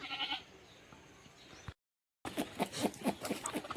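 Several short sheep bleats ring out close by at a sheepfold as the sheep drink, with a brief silent gap midway before a burst of more bleating and farmyard noise.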